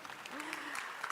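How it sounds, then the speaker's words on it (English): Audience at a digital summit conference applauding, a faint, brief patter of clapping with a voice carrying over it. "Let's give a round of applause"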